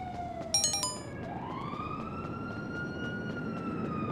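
Police sirens wail in Grand Theft Auto V, a rising and sustained electronic siren tone following a brief burst of high chirps, fairly faint against a dense rumbling game background.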